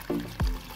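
Irrigation water gushes into a young rice paddy on a Masbate farm, heard as a brief close splash and pour with a low gurgling surge, alone and without talk.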